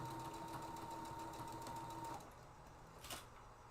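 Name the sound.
sewing machine sewing fabric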